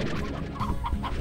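Chickens clucking in the farm video game Slime Rancher, a busy cluster of short hen calls running continuously at close range with no talk over them.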